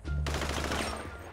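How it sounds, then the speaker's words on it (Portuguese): Gunfire in GTA 5 roleplay, shots aimed at a wall: a loud, close burst of rapid reports over about a second and a half, with a low droning hum underneath. "o cara atirou na parede, mano"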